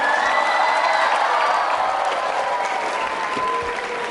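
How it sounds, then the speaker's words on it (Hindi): A school quiz show audience applauds steadily for several seconds, dense clapping filling the hall at an even level with faint cheering. "तालियां जोरों से बजाइए मैम के लिए।"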